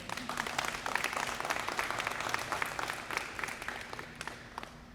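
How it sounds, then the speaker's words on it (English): Audience applause at a high school wrestling college signing ceremony, steady dense clapping from a crowd sustained for about five seconds before gradually thinning out. "I think she deserves another applause."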